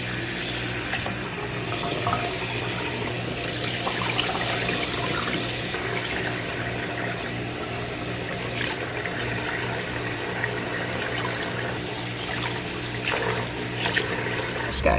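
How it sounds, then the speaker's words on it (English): Swimsuits rinsed under running water in a sink, a steady close splashing and hissing flow that continues without a break and with no voices. "I'm gonna rinse them and then hang them to dry."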